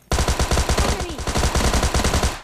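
Rapid automatic gunfire in PUBG Mobile Lite, a loud close burst of evenly spaced shots rattling continuously for about two seconds.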